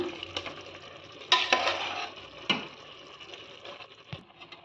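Cooked toor dal and rice for bisi bele bath are stirred and mixed in a pot. Soft wet scraping and clacks of a ladle come in uneven bursts over a faint background sizzle.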